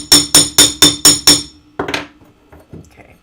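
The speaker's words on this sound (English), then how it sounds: "I'm hammering it down to at least half of its thickness" A hammer strikes a small metal piece six times in a steady, even rhythm to flatten it for jewelry making, loud and close, followed by a few scattered lighter taps and clinks.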